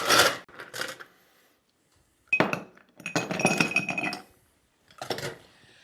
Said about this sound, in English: We're going to fill that about halfway up with